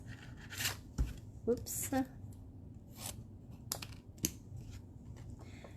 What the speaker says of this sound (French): je vais couper avec la perforatrice